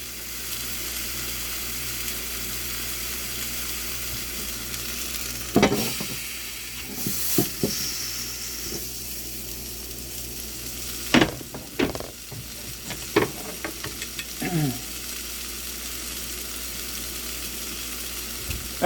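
A chicken breast sears in a cast iron pan under a steady, close sizzle, broken by occasional sharp clanks and scrapes as a cast iron press is set down and moved.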